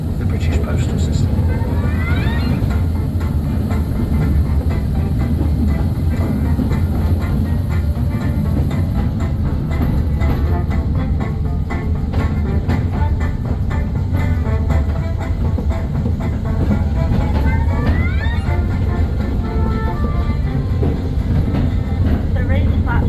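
Mail Rail museum train running along its narrow underground rails, a loud continuous rumble with rattling wheel clatter and occasional squeals, steady throughout while a voice narrates over it.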